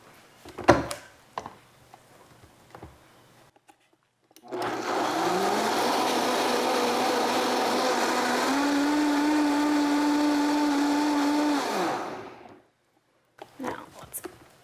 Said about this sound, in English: before I do the final spin on this in the blender